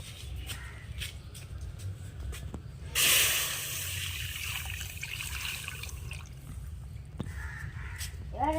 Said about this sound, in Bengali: এবার আমি দুধটাকে ঢেলে দেবো।